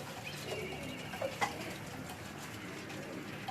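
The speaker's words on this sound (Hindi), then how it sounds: "और ये मेरे ख्याल वो बीमार वाले हैं कबूतर" Pigeons coo softly on a rooftop in Karachi, faint and distant, with a few low murmuring calls over quiet background noise.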